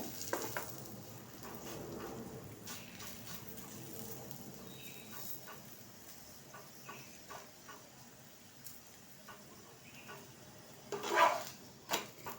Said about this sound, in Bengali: এইভাবে প্রত্যেকটা পরোটা আমি বেলবো এবং ভেজে নেব।